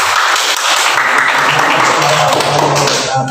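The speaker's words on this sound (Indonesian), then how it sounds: "Kasih tepuk tangan." Classroom of students applauding a student group, a loud, dense clatter of claps that blurs into a steady wash, with a faint tone surfacing near the end.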